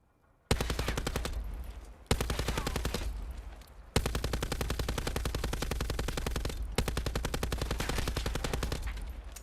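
Sustained light machine gun fire from Black Ops 4 with an operator mod: long, rapid, evenly spaced automatic bursts, loud and close, broken by a few short pauses between strings of shots.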